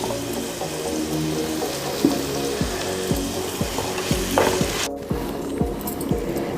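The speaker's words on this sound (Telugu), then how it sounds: "ఉల్లిపాయ వేగిపోతుంది." Onions fry in a pan with a steady hiss of sizzling oil, nearby and constant, while a utensil knocks against the pan at regular intervals.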